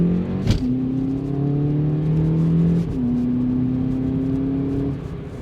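A Volkswagen Polo GTI accelerates toward highway speed, its engine droning loudly from inside the car as revs climb steadily, drop briefly at a gear change, then rise again over road and wind noise.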